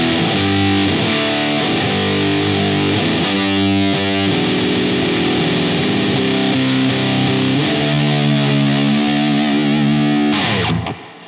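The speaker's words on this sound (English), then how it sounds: "It's got a great fuzz tone." An electric guitar played through the fuzz of a Keeley Loomer shoegaze pedal gives a thick, distorted, sustained tone, with chords ringing loud and continuous for about ten seconds before cutting off.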